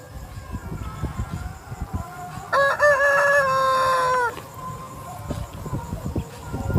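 A chicken, a rooster, crows once in a long, loud, clear call that rises and then holds, standing out from a low, busy background with no talk.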